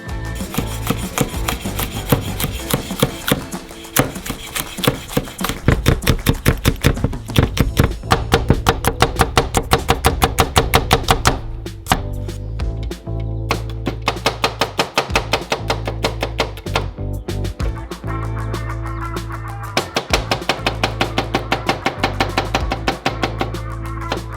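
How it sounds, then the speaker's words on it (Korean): A knife slices steadily through chili peppers into rounds on a wooden board, making rapid, regular close-up chops that continue with short pauses and no talking. "고추도 밑간할 거예요. 원형으로 썰어주세요."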